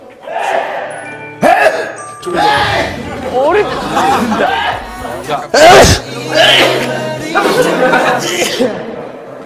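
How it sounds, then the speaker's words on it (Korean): A single sharp sneeze bursts out on a filming set partway through, loud and close, surrounded by continuous chatter and laughter from several people talking. "이 친구 연차를 먹더니 재채기도해요 이제 현장에서."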